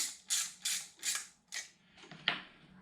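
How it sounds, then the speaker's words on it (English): The spring of a Hodaka motorcycle rear shock being compressed with a tool, heard as a series of about six short metallic ratcheting clicks in an even rhythm, close and fairly quiet. "And we're going to compress the spring."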